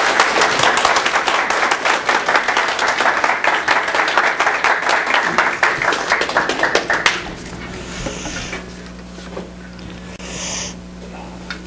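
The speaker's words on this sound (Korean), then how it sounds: "우리 한마음교회 성도들이 정성스럽게 환영하는 또 박수로 같이 환영하겠습니다." A church congregation applauds to welcome the pastor, dense steady clapping for about seven seconds before it fades to scattered claps and room noise.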